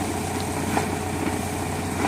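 Steady engine drone from a well drilling rig boring a new 6-inch groundwater well, running continuously at an even idle-like pitch throughout, moderately loud and unbroken, with no voices over it.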